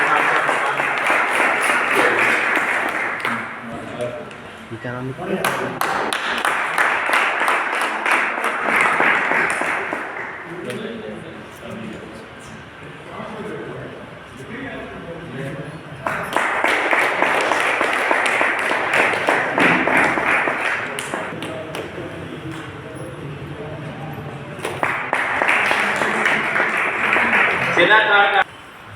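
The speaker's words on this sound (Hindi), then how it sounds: "तालियों की गड़गड़ाहट के साथ" Loud applause swells and fades in several long waves from a large crowd at a journalists' union award ceremony in Mandla, India, with a brief spoken question in between.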